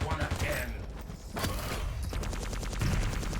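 Rapid plasma gun fire in a Quake match at the Barcelona KeenCon 2023 tournament, a dense run of repeated energy bursts with a sharp crack partway through, mixed with other weapon noise and a commentator talking over it.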